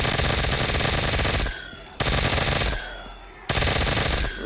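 Death Machine minigun firing in Black Ops 3 Zombies on Ascension, a loud continuous rapid-fire roar in three long bursts separated by brief pauses, no voices over it.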